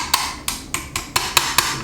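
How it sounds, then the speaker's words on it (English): A hammer taps a pin into a Remington 11-48 shotgun, seven sharp metallic taps at an even, fairly quick rhythm, close and clear against a faint background hum. "tap it with your ball peen or your hammer"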